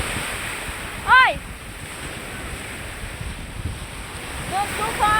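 Strong surf and gusting wind on a Boracay beach at high tide, a steady broadband roar with no letup, joined by a brief chirping whistle early on and faint call-like sounds near the end.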